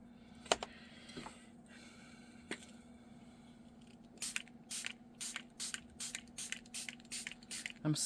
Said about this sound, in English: I'm spraying from up much higher this time.